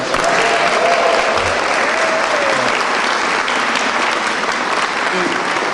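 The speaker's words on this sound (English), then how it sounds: "Tyler and Martha, can you give them a round of applause?" Audience applause at the Illinois governor's fiscal year 2024 budget signing event, a loud sustained roar of many hands clapping filling the room without a break, with faint voices beneath.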